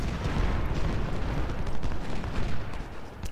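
Cannon and musket fire in the Civil War strategy game Ultimate General: Civil War, a dense, continuous rumble of booms and crackling shots at steady loudness with no clear breaks.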